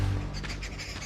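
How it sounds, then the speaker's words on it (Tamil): Young crows cawing and squawking in short, harsh bursts, fairly close and clear, with several overlapping calls over steady low background noise. "காக்கா குஞ்செல்லாம் கத்துதான்."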